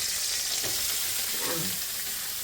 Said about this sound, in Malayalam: അരിഞ്ഞു വെച്ച ഉള്ളിത്തണ്ടൊക്കെ അങ്ങോട്ട് ശരണ്യ ഇട്ടിട്ടുണ്ട്